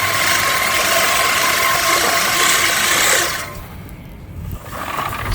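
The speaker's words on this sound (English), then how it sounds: "for a manual mower that I'm just pushing, it's doing a really good job" An American Lawn Mower Company 16-inch manual push reel mower cuts grass with a loud, continuous whirring hiss for about three seconds, then fades to a softer rustle before picking up again.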